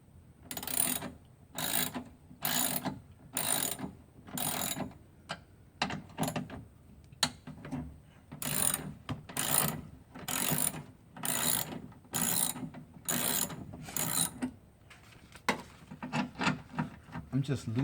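Bolts on the driver-side window regulator of a 1999 Buick Century are loosened inside the door with a ratchet. Repeated bursts of quick clicking come in groups, with short pauses between them, close and fairly faint.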